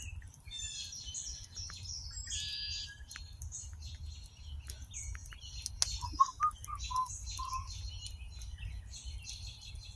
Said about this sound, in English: Birds are just going crazy.